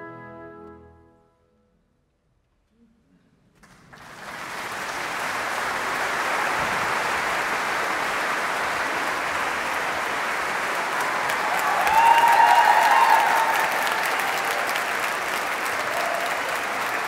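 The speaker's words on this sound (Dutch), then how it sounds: "groot applaus hier uit de zaal voor het Radio Philharmonisch Orkest, verteller Ab Nieuwdorp" Concert hall audience applauding the Radio Filharmonisch Orkest at a live classical concert, rising after a brief silence into sustained, broad clapping that swells slightly toward the end.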